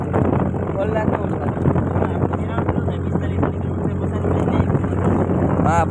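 Steady wind buffeting and rumbling into a moving vehicle on the road near Chotila, a loud continuous roar with a low drone and voices talking over it.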